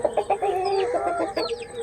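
Country chickens clucking in a steady run of short, close calls, several birds overlapping with a busy farmyard chatter near a coop.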